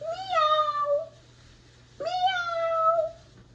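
A human voice imitates a cat's meow twice, each drawn-out, rising-then-falling call separated by a short pause, close and clear over a quiet background.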